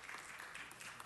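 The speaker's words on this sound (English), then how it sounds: "Let's give them a round of applause" Applause for visiting Apex Charter School guests at a city council meeting: a brief, faint patter of clapping from a small audience, heard at a distance.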